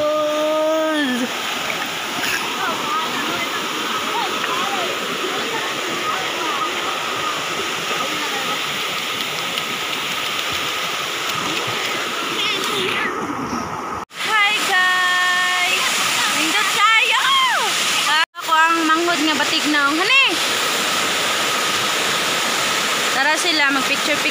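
Waterfall at Miabo Falls rushing as a steady, loud roar throughout, with voices talking over it and brief handling bumps.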